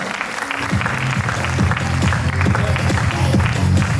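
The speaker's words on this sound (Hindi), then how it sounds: "जोरदार तालियां होनी चाहिए।" Audience applause at an awards stage event, steady clapping filling the whole stretch with music and an announcer's voice continuing over it.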